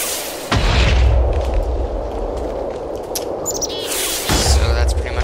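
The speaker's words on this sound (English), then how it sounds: "This is the rocket launcher, and the mods work just fine." A rocket launcher in modded Minecraft (Technic Pack) fires and explodes: two loud booming blasts, one early and one near the end, joined by a long rumbling roar and some crackling debris.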